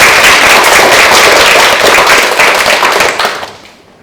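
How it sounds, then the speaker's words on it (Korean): Dense audience applause at a Chungbuk youth education policy proposal event, welcoming the head of the provincial education research institute to the stage; steady loud clapping that thins and fades out over the last half second. "이찬동 원장님을 큰 박수로 맞이해 주시기 바랍니다"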